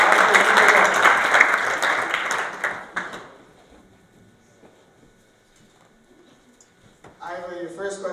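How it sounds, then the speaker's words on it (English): Audience applause after a speaker at a student election question session, a loud burst of clapping for about three seconds that fades into near silence, with another burst of sound near the end. "Let's give her a round of applause."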